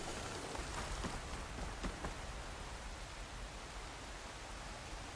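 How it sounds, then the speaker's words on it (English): Heavy rain pours down in Horizon Forbidden West, a dense continuous hiss of rainfall with a few faint splashes, steady and alone throughout. "Rain's really coming down."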